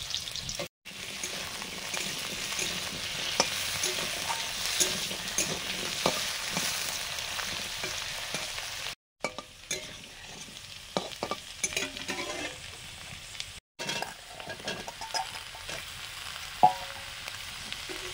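Potatoes fry with black cumin and dried red chilli in a pan, stirred as they cook. A steady close sizzle runs throughout with scraping stir strokes, broken by a few brief cuts, and no speech.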